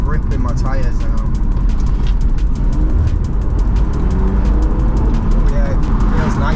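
A BMW Z4 drives along, its engine and road rumble steady and close from inside the cabin, with a voice talking over the drone.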